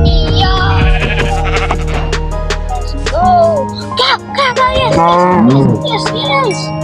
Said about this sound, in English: Cow, yes.